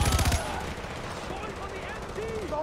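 Burst of automatic gunfire in Far Cry 4, rapid loud shots packed into the first split second, then fading into game ambience with faint tonal effects.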